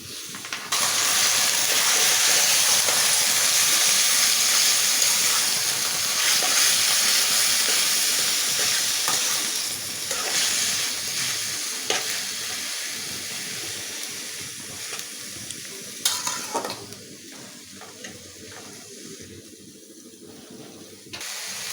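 Leafy greens tossed onto hot oil with fried chopped garlic and onion, producing a loud, continuous hissing sizzle that gradually softens toward the end.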